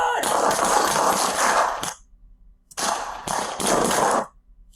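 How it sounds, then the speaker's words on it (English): Several police officers firing handguns at a robbery suspect outside a store, two long dense volleys of rapid overlapping gunshots, loud and close, separated by a short quiet pause. "There's like 3 or 4 officers shooting"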